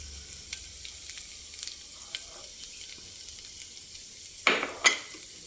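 Finely chopped garlic and ginger fry in a pan under a faint, steady sizzle, then two louder scraping stirs near the end.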